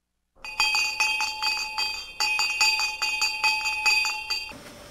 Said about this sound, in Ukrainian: Ведучий піднімає дзвоник.